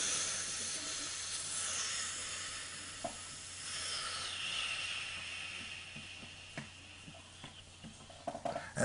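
A human voice imitates a steam train coming to a stop, giving a long hissing, sizzling exhale that slowly fades, with a few faint clicks and puffs near the end.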